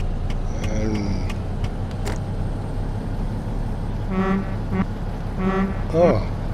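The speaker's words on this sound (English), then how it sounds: "oh, cute horns." Vehicle horns honk on a street beside a Peterbilt dealer, a few short toots early, then two longer blasts near the end, heard over steady traffic and idling engine rumble.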